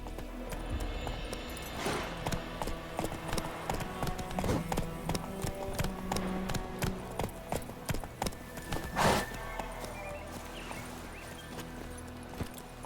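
Roach, the horse from The Witcher 3 video game, clip-clops along at a steady walking rhythm, hoofbeats close and distinct over a busy game soundscape with no talking.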